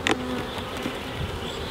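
Honeybees buzz around a hive during a check on new queens, a dense, continuous hum close to the ear with a brief louder buzz as one bee passes near at the start.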